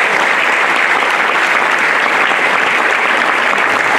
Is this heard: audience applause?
yes